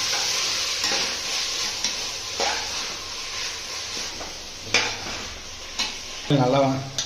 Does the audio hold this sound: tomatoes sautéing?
yes